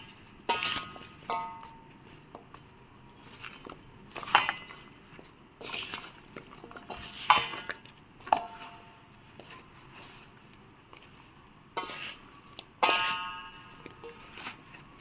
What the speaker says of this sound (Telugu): అందుకని నేను స్పూన్తోనే కలుపుతున్నాను